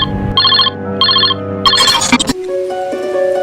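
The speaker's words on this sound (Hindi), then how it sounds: "अचानक से मेरे मोबाइल की घंटी बजी" A phone ringtone sounds in repeated electronic chirping bursts, followed by a melodic tone sequence; loud and close, with no talking.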